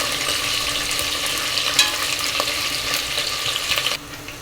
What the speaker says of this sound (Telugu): ఈ ఉల్లిపాయలు కొద్దిగా కలర్ మారేంత వరకు ఫ్రై చేసుకుందామండి